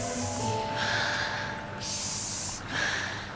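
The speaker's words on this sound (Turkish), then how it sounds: "Derin derin nefes al" Deep breaths in and out, a slow pair of long airy inhales and exhales, close and fairly loud, with no talking.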